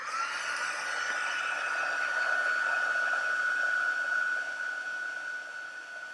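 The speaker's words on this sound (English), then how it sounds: "Excuse the heat tool noise." A heat tool blows hot air steadily while a fall cottage wreath mini cutting board is being crafted, giving a continuous close whooshing hiss with a faint whine that holds level for about six seconds, then eases slightly near the end.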